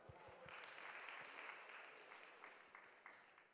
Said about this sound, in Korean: 박수 한번 줄까요?